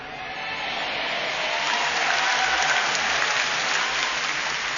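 A congregation at an Easter church sermon breaks into dense, steady applause, a broad sustained wash of many hands clapping that swells slightly and holds without any talk.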